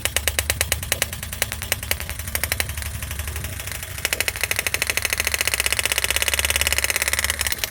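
A pneumatic engraving tool hammers on a Killerbee tattoo machine, a rapid, steady mechanical buzz of tight repeated strikes, close and fairly loud throughout.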